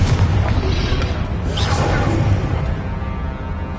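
A Confringo blasting spell goes off as a magical explosion effect: a loud, heavy rumbling boom with a swooshing burst that stays dense and sustained throughout.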